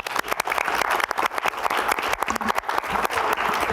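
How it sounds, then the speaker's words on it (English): Clapping at a school board of education meeting, a small room's worth of hands giving loud, close applause with individual claps audible, lasting a few seconds. "Another round of applause."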